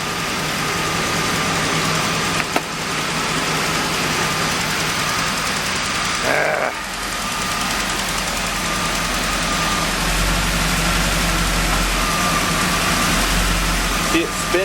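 A 1989 Pontiac Trans Am runs loud and steady through a burnout, engine roaring with a dense rumble and tire-spin noise, dipping briefly midway before a deep low drone swells near the end.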